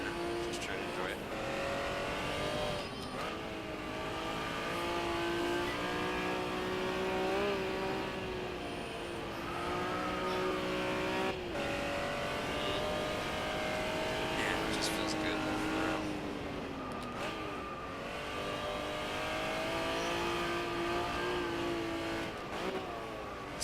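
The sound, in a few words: Honda NSX-R car driving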